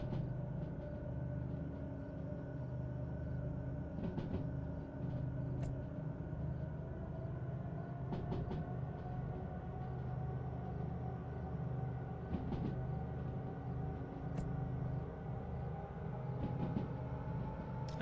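A train in a simulator game rolls along with a low, steady mechanical rumble and drone, punctuated by occasional faint clicks and brief hisses, continuous and unvarying.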